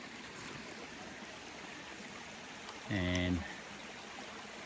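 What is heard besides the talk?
water flowing from micro hydro penstock into sink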